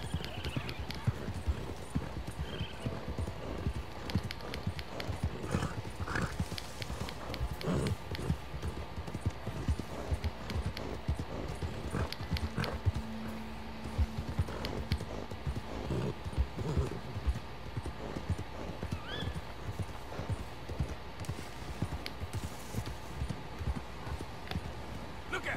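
Horse hooves clip-clopping at a steady run in the Red Dead Redemption 2 game, sustained and fairly close, with a voice talking over parts of it and occasional other game noises mixed in.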